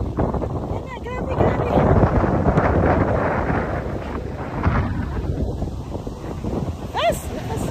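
Strong wind buffets the microphone in loud, rolling gusts that rise and fall throughout, with people talking and exclaiming over the roar.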